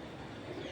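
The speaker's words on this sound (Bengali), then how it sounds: "এটা হলো অরিজিনাল জেনারেল ব্লাড অ্যান্ড লাইনের কবুতর" A pigeon of an original club blood line gives a brief, soft, low coo, close by and alone, over a steady background hum.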